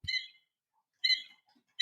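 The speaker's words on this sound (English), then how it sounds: "we have a bird here, and it makes a sound." A pet bird in a home gives three short, high chirps spaced about a second apart, close and fairly clear, with near silence between calls.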